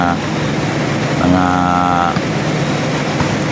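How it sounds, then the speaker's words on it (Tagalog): A corn grinding mill runs loudly, one engine driving several grinders through belts, giving a dense steady roar with a brief tonal whine in the middle, as someone talks over it. "Isang makina lang umaandar yan, pero maraming nakakonik na mga"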